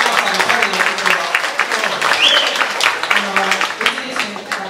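Audience applause at an Okinawa council meeting reporting results of Governor Takeshi Onaga, a steady, dense patter of many hands clapping for several seconds with voices speaking over it.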